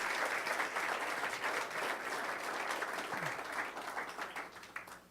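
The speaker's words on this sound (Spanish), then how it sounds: "Aplaude fuerte al Señor." Church congregation applauding loudly during a sermon, a dense, sustained wash of many hands clapping together that carries on steadily before tapering slightly near the end.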